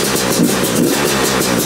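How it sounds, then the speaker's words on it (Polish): A new 2024 Beta 300 RR motorcycle runs close by, its engine loud and continuous with a rapid, throbbing pulse and no voices. "Ten silnik ma inne obroty."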